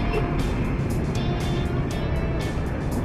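Night road traffic on a busy but flowing road, with a constant loud rumble of engines and tires and big trucks passing, recorded close with no break in the noise.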